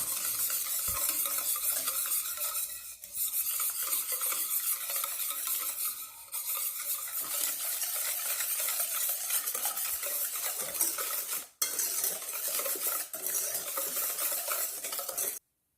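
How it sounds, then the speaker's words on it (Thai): Eggs beaten with a hand whisk while sugar is added gradually, producing a fast, continuous rhythmic scraping and clicking of wire against the bowl, with a couple of brief pauses. "เราจะตีไข่ด้วยตะกร้อมือไปก่อนค่ะ ทยอยใส่น้ำตาลแล้วก็ตีไปเรื่อยๆค่ะ"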